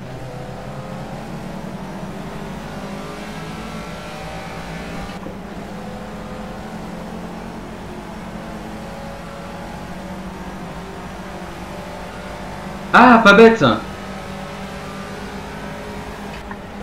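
A Caterham race car's engine in the Project Cars racing game at Snetterton, holding a steady drone close up with a short, louder burst near the end and a brief spoken remark.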